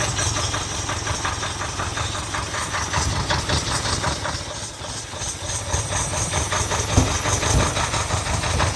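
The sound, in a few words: 1979 Ferrari 308 engine idling, spitting back through carbs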